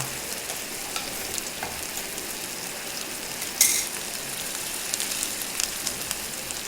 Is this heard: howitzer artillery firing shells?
no